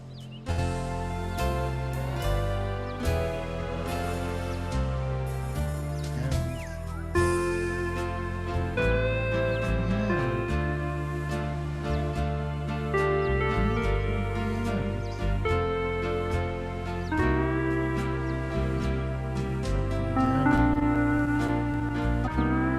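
A home organ from the Estey or EZ entry-level range plays a song in a Blue Hawaii style. The chords are full and sustained under a steady melody, played alone with no talking for over twenty seconds.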